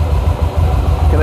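A cold engine idles steadily after starting without the choke, a low, even rumble running loud and close throughout.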